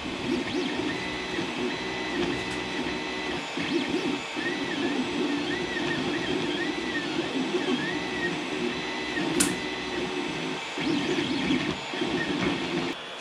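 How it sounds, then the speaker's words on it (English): A 3D printer works through a mid-print colour change on house-number letters, its stepper motors whirring and warbling in a steady, busy rhythm with small clicks, close and moderately quiet throughout. "So this will now start printing black eventually, just on the top part of the letters."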